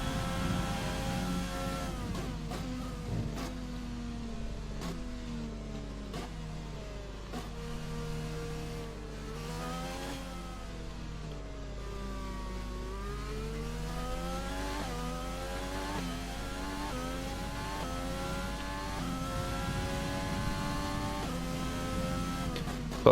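An F1 race car in the F1 video game accelerating hard, its engine whine climbing in pitch and dropping at each gear change, with repeated upshifts in a continuous, moderately loud drone and no talking.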